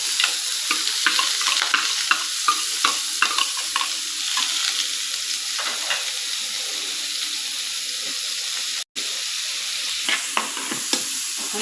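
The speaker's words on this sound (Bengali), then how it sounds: "আমি রেগুলার সাদা তেল দিয়ে তারপরে পেঁয়াজগুলো ভেজে নিলাম" Onions frying in white oil for beef bharta give a continuous bright sizzle with scattered crackles and spoon scrapes, close and steady, with one very brief dropout near the end.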